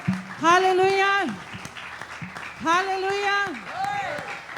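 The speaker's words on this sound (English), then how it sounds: "Why don't you give God a clap offering this afternoon, this evening?" A church youth service congregation claps steadily in the background while a voice loudly calls out over it in two long bursts.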